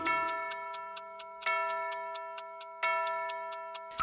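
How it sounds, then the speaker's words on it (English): A clock chiming in a children's nursery rhyme song, three bright ringing strikes spaced evenly over a few seconds, each decaying slowly with a soft ticking between them, no voices. "The clock struck three,"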